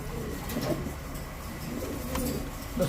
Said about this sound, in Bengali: ভাই ইসমাইল ভাই একটু ধরেন কবুতরটা ধরে দেখেন একটু